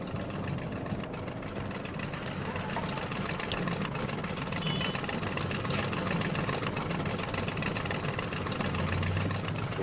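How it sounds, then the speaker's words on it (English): Two flathead-engine race cars from 1957 running together, a dense, continuous engine roar with rough low rumble and steady mid-range drone filling the whole stretch, loud and unbroken with no voices. "Both cars are flathead engines."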